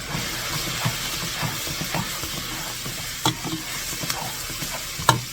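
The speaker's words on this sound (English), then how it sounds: "I am putting my pasta in my water. My water's boiling." Bubbling, hissing salted water at a boil as pasta is added, with occasional clinks and stirring clatter, close and steady throughout.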